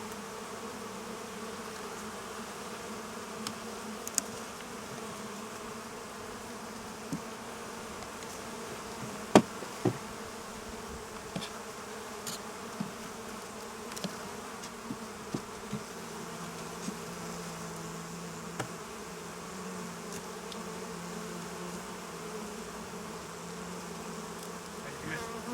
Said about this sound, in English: Come and see the bees.